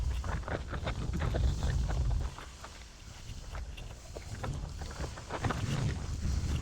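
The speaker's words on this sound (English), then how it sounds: "The wind almost blew me over." Strong gusting wind buffets the rider on a motorcycle ride in the desert, a low rumbling roar that swells, dips and rises again, with no talk.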